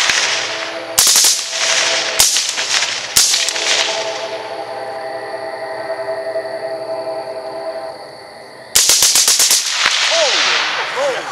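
Bushmaster ACR rifle gunfire outdoors: sharp loud cracks, first in separate shots and then in a rapid string, with echoes ringing out between bursts.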